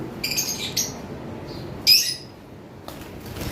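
Lovebirds in a bird shop, including normal blue Fischer's lovebirds, giving a few short sharp chirps and one louder squawk in separate bursts over a low steady room hum.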